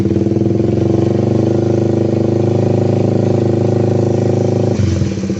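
A Suzuki Satria FU motorcycle engine revving steadily and loudly up close, then dropping off near the end.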